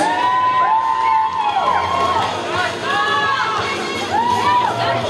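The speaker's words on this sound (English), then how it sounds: "Narfox getting some love from the crowd out there. Narfox has a cheering section." A crowd cheers and shouts for a jammer during a women's roller derby bout, loud rising whoops and hollers coming in waves, with children's voices and chatter mixed into the noise.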